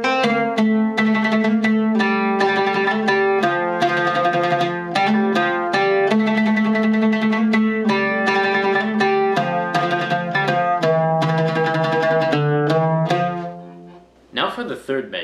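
A string instrument plays the opening two measures of Samai Bayati Al Aryan, a steady melodic line of plucked notes with sustained tones, loud and close, ending in a brief pause and a few scattered notes.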